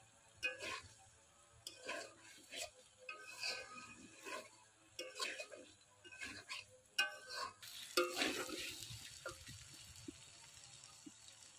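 Winter vegetables are stirred into oil with browned onion, ginger and garlic for a khichuri. A quiet, intermittent sizzle sits under repeated clinking and scraping spatula strokes, with a denser burst of stirring toward the end.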